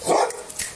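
A sheriff's office police dog gives one loud, close bark followed by a fainter yip, with no talk.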